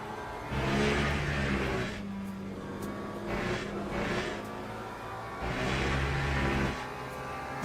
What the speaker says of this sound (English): that Porsche is flying through there, but he's gone off track